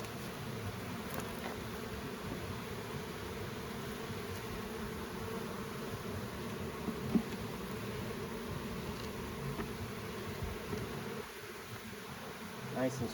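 Honey bees around a strong beehive during a honey super check, a faint, continuous buzzing hum with a few louder passing bees and light bumps, no speech.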